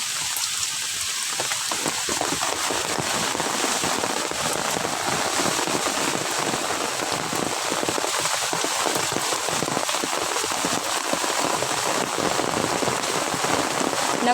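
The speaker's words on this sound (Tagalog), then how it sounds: "kapag malakas ang ulan" Heavy rain from a tropical cyclone pours steadily on a beach, a dense, constant hiss of drops pounding surfaces close by, with no voices.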